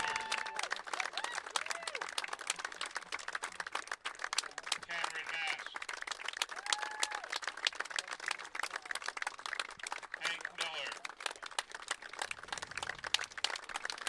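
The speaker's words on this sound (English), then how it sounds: "Just non-stop applause here for the Golden Bears." Crowd applauding and cheering at a high school regional championship baseball game, continuous scattered clapping from the stands with distant whistles and shouts, while an announcer talks over it.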